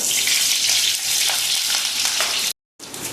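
Thinly sliced onion and slit green chillies fry in hot oil for a Kerala tomato peera side dish, giving a loud, steady, close sizzle that cuts out briefly near the end and then resumes.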